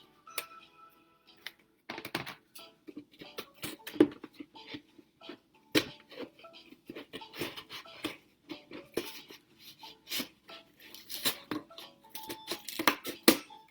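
Scissors snip through paper or plastic sheet while a small balloon-powered boat is being built, a quiet, irregular run of sharp short clicks and crunches close by with no talking.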